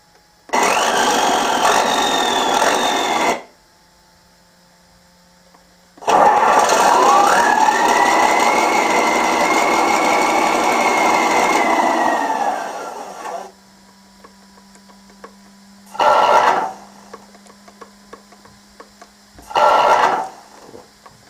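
A swapped-in RC model sound unit plays triggered effects: two long mechanical engine-like bursts with whining tones, then two short bursts after quiet gaps, all loud and close with no talk.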